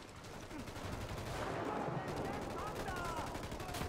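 Sniper rifle gunfire in a first-person shooter game, set in dense, continuous game noise of shots and explosions that stays loud throughout, with no clearly separated single report.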